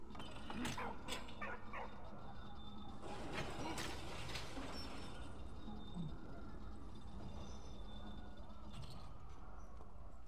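A dog barks and yips in the World War I video game Valiant Hearts, several sharp barks early on, then whimpering amid mechanical clanking and a steady background rumble.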